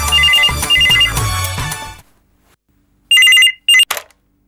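A telephone rings loudly with a trilling electronic ring in repeated bursts, then goes silent for about a second before two shorter rings sound, close by with no talking.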